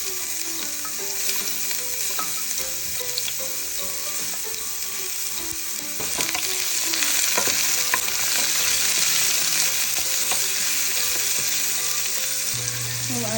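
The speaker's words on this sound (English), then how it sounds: "We're gonna saute the shallot first" Shallot and ginger saute in hot vegetable oil, a steady loud sizzle with utensil stirring scrapes throughout, growing slightly louder midway; no talking.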